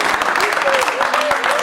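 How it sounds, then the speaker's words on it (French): Dense applause from a festival crowd, fast and continuous, with voices audible through the clapping for the whole short stretch. "On les applaudit très très fort avec un maximum de bruit s'il vous plaît"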